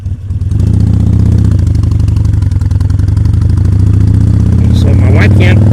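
Motorcycle engine running steadily throughout a ride with a passenger aboard, loud and close with a constant low throb, a faint voice over it near the end.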